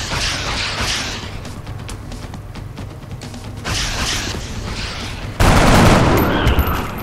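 Game gunfire from XCOM: Enemy Unknown, a squad trading shots in a rapid fusillade of bursts and booms, loud and close, swelling to a heavier barrage near the end.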